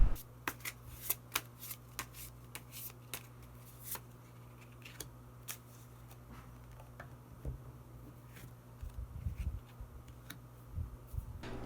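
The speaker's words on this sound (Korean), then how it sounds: "마지막으로 히든 카드 한 장 더 뽑아보도록 하겠습니다" Tarot cards shuffled and drawn by hand in a quiet room, a run of crisp riffling and snapping card flicks close up, with soft shuffling and a low steady hum underneath.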